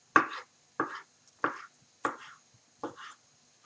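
A knife chops through lamb liver and organ meat on a board in five crisp, evenly spaced strikes, close and clear, with no talking.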